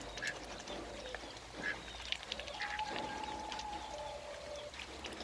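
A duck gives several short separate quacks close by over steady outdoor background noise.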